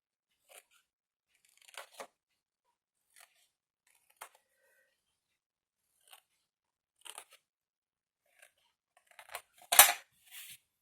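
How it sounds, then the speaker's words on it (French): Scissors trimming the glue tabs of a cardboard box, a series of short sparse snips and cuts spread out over several seconds, ending in a louder cluster of crunchy cutting and handling noise close by. "vous épointez un peu les onglets de collage"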